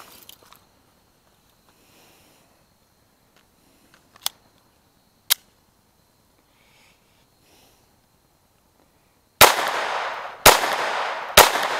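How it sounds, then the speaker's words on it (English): An Advantage Arms pistol fires CCI AR Tactical ammunition: a few faint clicks and snaps, then three loud, sharp shots in quick succession near the end. "All 10 rounds, last round hold open."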